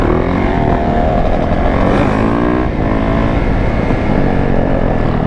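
A two-stroke quad engine at a busy lot revs hard and close, a loud, raspy, continuous drone that rises and falls in pitch without pause.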